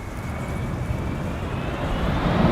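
Jet airliner, a 21-year-old aircraft, arriving on the Polderbaan runway at Amsterdam Schiphol in a windy storm: a steady, loud engine roar mixed with wind rush that builds slightly toward the end, with no talk.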